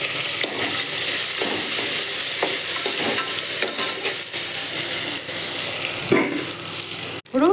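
Ginger-garlic paste sizzles steadily in a hot pan of oil with onions, a continuous close frying hiss broken by scraping and stirring clatter from a spoon, with a brief louder stir near the end.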